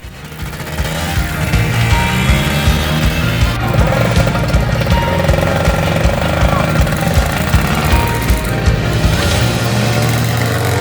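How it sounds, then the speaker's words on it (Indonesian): A modified mountain ojek motorcycle built for steep, rocky climbing trails on Gunung Sumbing, its engine running loud and close with a rough, steady rattling drone throughout. "Motor yang dipakai sudah dimodifikasi dan dirancang untuk melewati medan mendaki dan berbatu."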